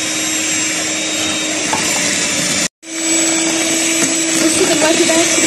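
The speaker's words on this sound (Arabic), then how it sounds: "دلوقتي بقى الكريم الشانتيه لسه بنضرب فيه مثلا تلت عشر دقايق" An electric mixer whips chantilly cream with a steady loud motor whir, cut off briefly midway before starting up again.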